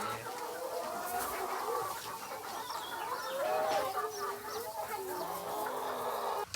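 Laying hens cluck continuously as children feed and water them on a farm. The flock sounds close and busy, with overlapping clucks and faint voices in the background.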